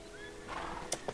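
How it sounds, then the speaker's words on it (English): A horse in the Lego Worlds video game gives a short neigh, faint and brief against low ambient game noise, with a couple of soft clip-clop taps at the end. "And there is a horse."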